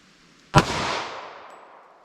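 A single loud, sharp report from a Glock 41 firing a .45 ACP round out of a short 3.3-inch barrel, with a decaying outdoor echo trailing off over about a second and a half.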